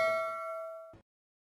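A single bright metallic bell ding, the notification-bell sound effect used for subscribing, ringing clearly and then cut off abruptly after about a second, heard alone.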